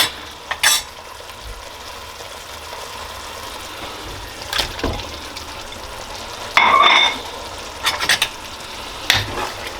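Shrimp stirred into curry paste in a pot, a low steady sizzle broken by several sharp spoon scrapes and knocks against the pot, no talking.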